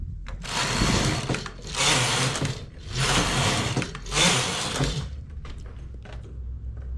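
A knitting machine works thick yarn in three long sweeping passes of the carriage, each a loud rasping, clattering run, with quieter mechanical clicks and handling noises between and after them.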